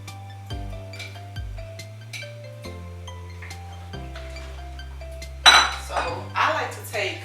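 A spoon scraping and clinking against a pot while scooping out a crab and shrimp seafood broil, with sharp metallic taps and a ringing tone near the start, then a few louder rattling scoops toward the end, close and clear.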